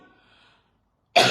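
One short, sharp cough from a woman who had just been shouting, loud and close, bursting out abruptly after a moment of near silence.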